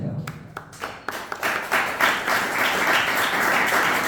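Audience applause rises into a sustained, dense wash of clapping after a few scattered claps, following a spiritual discourse at a gathering in Pune.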